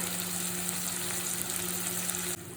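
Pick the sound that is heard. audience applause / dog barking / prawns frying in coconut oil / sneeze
prawns frying in coconut oil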